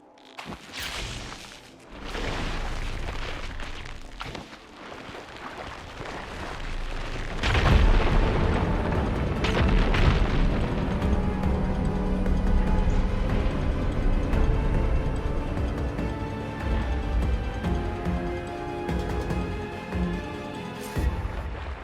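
In the video game Horizon Forbidden West, a fire gleam ignites and blasts apart rubble: a deep rumbling boom with crackling debris swells partway through and rolls on under a sustained, loud game soundtrack.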